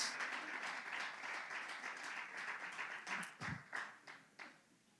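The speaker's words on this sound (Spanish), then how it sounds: "Un aplauso al Señor." A church congregation applauds during a sermon, with steady, fairly faint clapping that thins into a few scattered claps and fades near the end.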